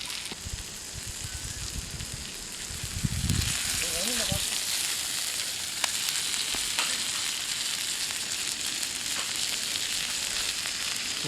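Fish frying in a pan during an outdoor cooking session, a steady loud sizzle and crackle of hot oil throughout, with brief bubbling spurts and occasional voices in the background.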